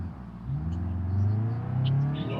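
An FSO Polonez car reverses at a Warsaw factory, its mid-pitched engine humming and whirring as it rises and falls over a couple of revs, with a faint higher clatter at times.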